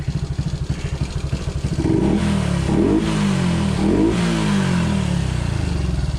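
Honda Cub CT 142 big-bore motorcycle engine revving nearby, a lumpy idle rising into loud sustained revs with several throttle blips, no talking.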